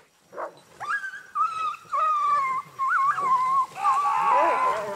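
A pack of hunting dogs on a Spanish montería bays and yelps excitedly at a group of wild boar cornered in a large bramble thicket, with overlapping high barks and whimpers that grow busier and more chaotic toward the end.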